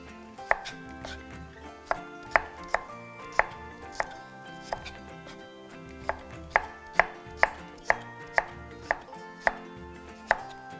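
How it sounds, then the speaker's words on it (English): Sharp, evenly spaced knife strokes slice through ingredients on a chopping board at a summer barbecue cookery demonstration, each cut a crisp close tap in a steady rhythm. "So now just cut our little slices here and we'll have these ready."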